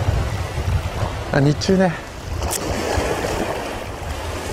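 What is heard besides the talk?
wind and waves on the sea shore while shore jigging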